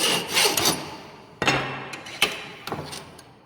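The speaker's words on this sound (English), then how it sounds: "file the edges of the two metal strips and finish to 90 degree" Hand file worked across the edges of two metal strips being squared for a butt joint, a few separate rasping strokes close by with short pauses between them, no talking.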